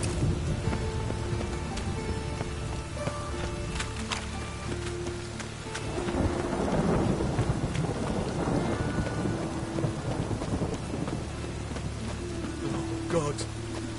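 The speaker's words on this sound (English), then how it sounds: "A storm, damn it." Thunderstorm in The Witcher 3: Wild Hunt, with steady rain hissing throughout and a loud rolling thunder swell building in the middle, while faint game ambience and tonal hums sit underneath.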